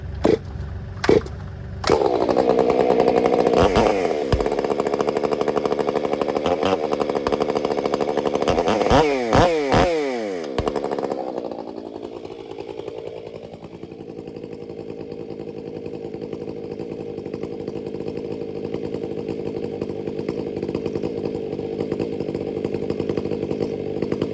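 A Husqvarna-style 500i chainsaw with a hand-ground, raker-set chain revs hard and loud at close range, with several sharp throttle blips around the ten-second mark, then settles into a steady, slightly rough idle for the rest.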